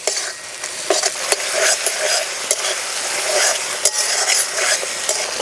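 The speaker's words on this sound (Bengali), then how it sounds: "এবার ভালো করে কষিয়ে নেব মশলা থেকে তেল ছাড়ার আগ পর্যন্ত।" Spice paste with tomato frying in a pan for Bengali koi fish curry, a steady close sizzle broken by repeated scraping stirs, with no talking.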